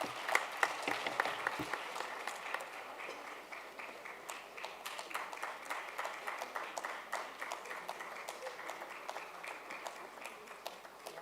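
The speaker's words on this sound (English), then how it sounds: "Round of applause." Sustained applause from a crowd at President Cyril Ramaphosa's Milestones of Freedom campaign event, dense steady clapping running the whole stretch with sharper claps near the start.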